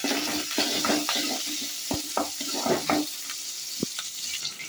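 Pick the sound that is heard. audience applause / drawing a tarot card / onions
onions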